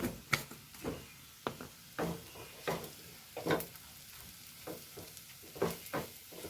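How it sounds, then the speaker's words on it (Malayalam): Coriander, chili and turmeric powder fry in a pan under a steady low sizzle, with a spoon scraping and stirring in irregular taps and scrapes roughly every half second, close and fairly quiet. "അതൊന്ന് ഇളക്കി കൊടുക്കാം"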